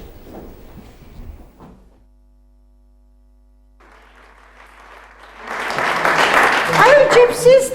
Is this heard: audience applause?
yes